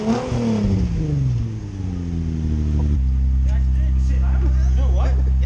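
A Honda car engine with a new exhaust revving up, a loud rising then falling drone that settles into a steady, deep idle-like hum, close by, with people talking over it.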